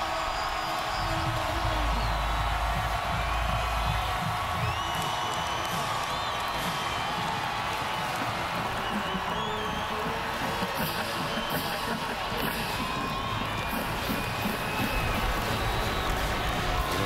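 A sellout home stadium crowd roars and cheers as the Cowboys come out of their tunnel against unbeaten Baylor, forming a continuous wash of distant, steady noise.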